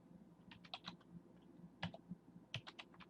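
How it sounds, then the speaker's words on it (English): Several short bursts of keystrokes on a computer keyboard while entering code in Dreamweaver web-design software, with brief pauses between the quick, close clicking runs. "I'm actually going to type in sidebar left"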